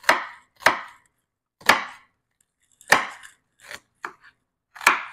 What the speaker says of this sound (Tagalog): Yan, yun ang slice natin sa sibuyas natin.